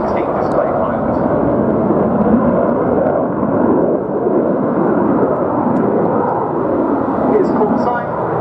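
A Belgian F-16 flying a display at the RNAS Yeovilton International Air Day produces a loud, sustained rumbling jet roar that holds steady throughout, with a voice audible over it.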